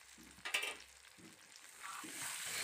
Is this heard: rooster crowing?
no